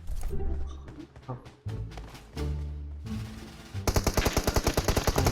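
Gunfire in PUBG Mobile from an enemy shooting while lying prone, with bursts of shots and a loud, rapid automatic volley near the end.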